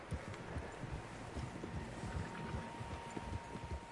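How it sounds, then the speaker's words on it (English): Several horses' hooves clip-clopping in Red Dead Redemption 2, a faint, steady patter of hoofbeats under wind with no talking. "Horses, quite a few of them."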